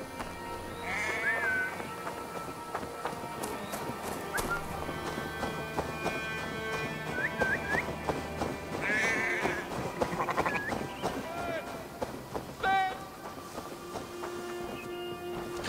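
Sheep bleat in the Assassin's Creed Valhalla video game, a few short wavering calls rising over a steady background of ambient game sound and faint hoof clops.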